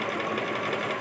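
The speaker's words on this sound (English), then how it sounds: "I'm going to stitch forward, stitch backward, stitch forward," A sewing machine runs a short burst of forward and backward stitching on a side seam of shorts made from a pajama pattern, a continuous close mechanical whir lasting about a second.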